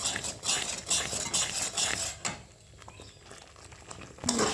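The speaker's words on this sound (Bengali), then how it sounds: "দেখুন বন্ধুরা, এটি নাড়তে হবে, নাহলে এই যে ফুটে উঠেছে" A spoon stirring bubbling paneer gravy in a pan, repeated scraping strokes with a soft patter of boiling, going quieter for a moment before a final clink.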